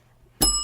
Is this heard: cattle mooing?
no